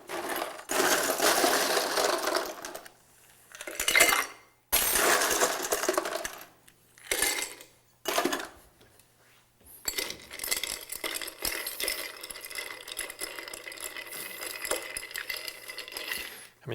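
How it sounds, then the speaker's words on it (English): Ice clinks and rattles in a mixing glass as a cocktail is stirred, a close, bright jingling that comes in bursts with brief pauses and then settles into a steadier, softer stirring, with no talking. "We want to stir this drink rather than shake it"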